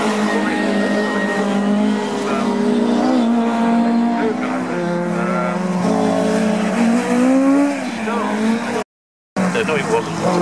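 A Porsche race car passes on a racing circuit, its engine note loud and close, sweeping and shifting in pitch, with tyre noise. The sound cuts out briefly near the end.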